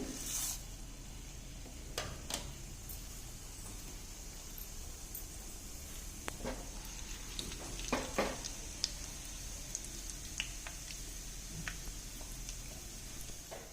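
Chana dal and mustard seeds crackle and sizzle in hot tempering oil, a steady broadband frying hiss with scattered sharp pops throughout, close and alone.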